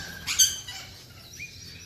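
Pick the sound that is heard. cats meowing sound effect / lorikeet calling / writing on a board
lorikeet calling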